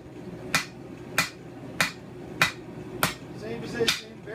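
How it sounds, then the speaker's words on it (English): A hammer forges hot metal on the sharp edge of an anvil, drawing out a blade tang: six sharp, ringing metallic strikes at an even, unhurried pace, close and distinct. "I'm going to use the sharp edge of the anvil. Start drawing out the tang."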